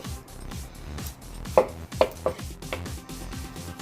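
A knife slices through smoked St Louis style pork ribs on a cutting board, with several sharp thunks as the blade hits the board, close up and with no talking.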